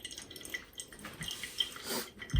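Water slowly trickling and dripping through a V60 pour-over coffee filter, faint and close, with soft irregular patters over a quiet background.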